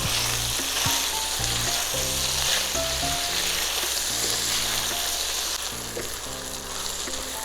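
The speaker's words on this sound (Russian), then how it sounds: "около 5 минут мы обжаривали перец вместе с курицей" Steady, loud sizzling of peppers and chicken frying in a hot pan, a continuous crackle with occasional stirring scrapes, no talking.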